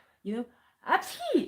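A single sharp sneeze bursts out close by, preceded by a short vocal sound, during a casual conversation.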